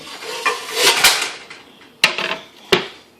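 A thick metal pan slid into an oven while baking Guyanese bake, a scraping slide followed by two sharp metallic knocks and clanks, close and loud, with no voices.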